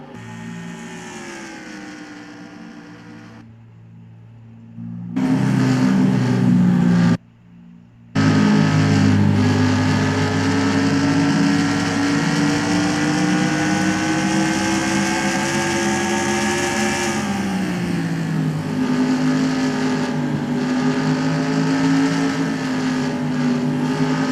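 NASCAR race cars in the NR2003 racing game, with a loud, continuous engine drone from a pack of cars holding a steady pitch, two abrupt cuts to near silence early on, and a pitch dip and rise later.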